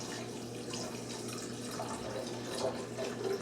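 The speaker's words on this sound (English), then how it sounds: "I need to pour a cup here." Water pours steadily into a measuring cup in a home kitchen, a soft continuous trickling and splashing heard fairly faintly.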